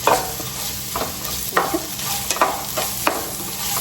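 Onions sautéing in a pan with a pinch of salt, a steady nearby sizzle punctuated by four or five rhythmic spatula scrapes as they are stirred toward golden.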